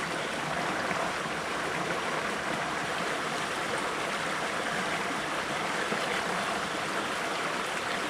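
A cold mountain stream in the Indonesian jungle rushes over rocks in a constant, broad wash of flowing water, close and even throughout, with no talking.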